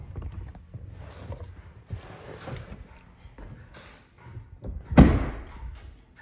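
Door of a 2022 RAM truck thuds and clunks as the driver climbs out, with softer shuffling and a loud slam near the end, close by and unaccompanied by talk.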